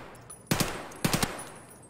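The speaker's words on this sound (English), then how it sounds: "hearing gunshots." Pistol gunfire on the Factory map in Escape From Tarkov: two quick bursts of sharp shots, the second a rapid run of three. They are fairly faint and somewhat distant, with no talk over them.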